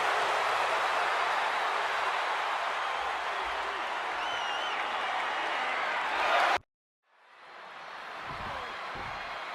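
A virtual WWE 2K26 arena crowd cheers and applauds in a steady, loud wash that cuts out abruptly, then a fainter crowd roar swells back in.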